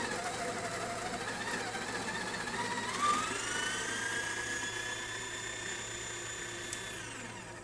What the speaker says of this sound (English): you can hear the grinder didn't stall at all, and this is pretty fine